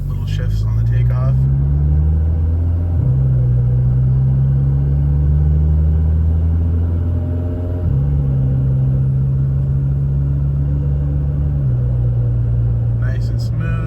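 A VW Tiguan fitted with a DQ250 DSG gearbox pulls away and accelerates on a highway, its engine droning loudly from inside the cabin, with clear step changes in pitch as the gearbox shifts up.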